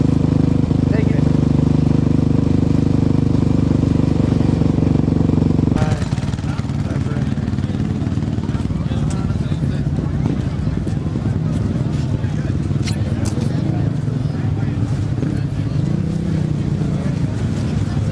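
A KTM off-road race motorcycle runs at the 2007 Baja 1000, its engine droning loud and steady before the tone abruptly shifts and continues with rough revving under background voices.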